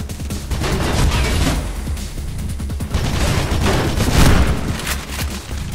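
Gunfire in the video game Mirror's Edge: loud, dense bursts of rapid shots and booming blasts roll on continuously for several seconds, with no voices heard.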